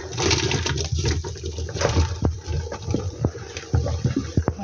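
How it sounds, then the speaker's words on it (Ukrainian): About four kilograms of bell peppers tumble into boiling spiced tomato juice in a large 9-litre pot, a busy run of splashing, sloshing liquid and irregular thuds with no talking. "І зараз я буду всипати сюди перець."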